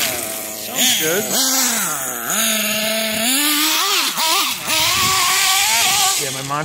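Kyosho Neo ST 3.0 nitro RC car engine running close by, its high buzzing whine rising and falling sharply with throttle blips before settling toward idle.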